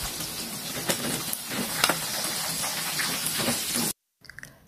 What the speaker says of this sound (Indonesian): Sebagiannya lagi kita goreng sampai ayamnya habis.